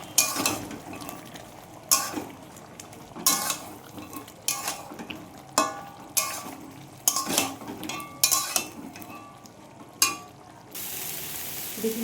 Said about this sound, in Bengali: তো এবারে আমি একসাথে মেশাচ্ছি।